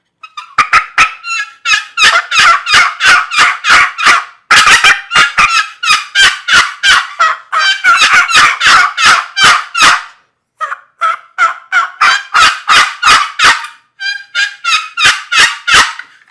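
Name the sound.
aluminum box turkey call imitating hens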